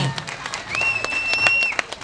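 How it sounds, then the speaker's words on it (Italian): Audience applause fills an outdoor town square in Trani, a dense burst of clapping with a sustained tone running through it, loud and close before fading at the end. "L'applauso!"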